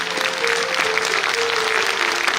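An audience applauds steadily at a commemorative event honoring Atal Bihari Vajpayee, a continuous wash of many clapping hands, close and loud, with a sustained tone underneath.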